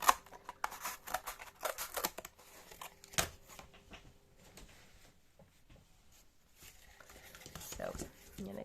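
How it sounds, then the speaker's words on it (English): Scissors snip out a curved paper seat piece for a mini craft swing set, in a string of close, crisp cuts with paper rustle and brief pauses, quieter in the middle before more snipping. "So I'm going to cut that."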